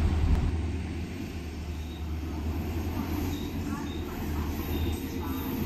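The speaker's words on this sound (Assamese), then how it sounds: "ফাইনেলি আধা ঘণ্টামান বাট চাই থকাৰ পিছত ট্ৰেইন আহিলে" Train arriving at Dhubri Junction station, a low steady rumble of rolling railcars at moderate distance, faint and continuous throughout.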